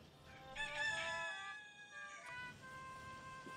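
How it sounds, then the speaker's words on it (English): A rooster gives one drawn-out crow, fairly faint and alone, with a quieter tail as the call trails off. "Rooster's clucking."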